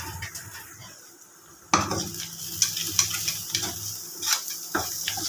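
A tempering of salt and turmeric sizzles in a pan for a potato and wadiyan curry, a loud hiss that jumps up suddenly, with scattered clinks of a spoon stirring.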